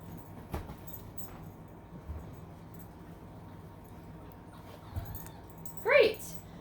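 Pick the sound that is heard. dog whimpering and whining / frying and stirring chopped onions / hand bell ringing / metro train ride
dog whimpering and whining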